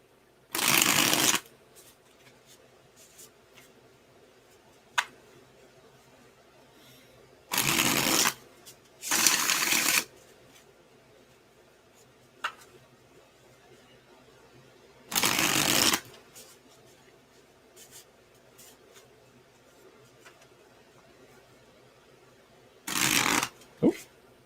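Four separate bursts of tarot cards being shuffled, each lasting about a second, spaced apart by quiet stretches with faint background noise.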